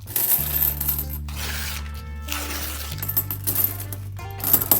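Old Korean 10-won coins, some dated 1980, tumble and clink from a freshly opened coin roll, a steady metallic jingle that runs throughout at close range over a low hum.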